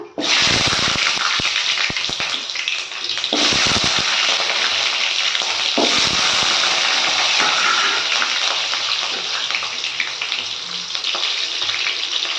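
Whole small onions hit hot oil for a bitter gourd tamarind curry, setting off a loud, continuous sizzling roar with bursts of crackle and bubbling right up close.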